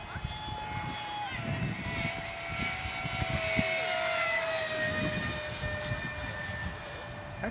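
A steady high-pitched F-16 jet engine whine holds throughout, with a smooth sweeping tone of the aircraft flying by, over a rumbling low background and some faint talk.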